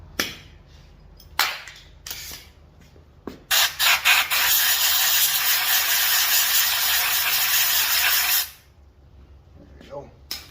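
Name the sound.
air chuck blowing out Stihl BG 55 blower carburetor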